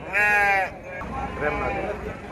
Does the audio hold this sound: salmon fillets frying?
no